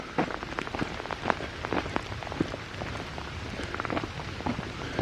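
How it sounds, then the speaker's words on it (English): Heavy rain pours steadily on a countryside walk near woods and a car park at Bateswood, a dense close patter of many drops with sharper individual splashes, continuous and with no voices. "The rain's really coming down now."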